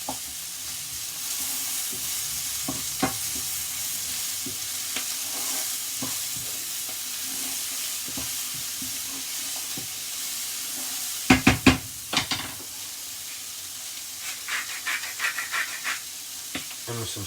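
Tuna, rice noodles and vegetables stir-frying in coconut oil with chilli, garlic and ginger, a constant close sizzle with scraping stirs and a burst of louder clatter partway through.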